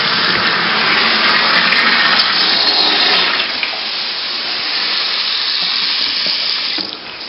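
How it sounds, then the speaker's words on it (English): Several faucets running at once in a master closet and bathroom during a home-inspection flow test: a loud, steady, close rush of water that eases slightly partway through and continues without pause. "the faucets open in the master closet, and the test is, could you take a shower while all those faucets are open?"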